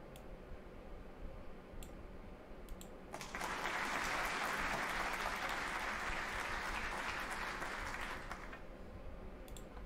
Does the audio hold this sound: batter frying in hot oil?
no